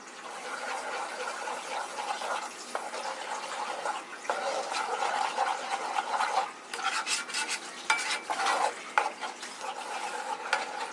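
Garlic fries in a pan for chicken curry, giving a continuous sizzle broken by scraping stirs and brief bursts of crackling. The sound is close and fairly loud.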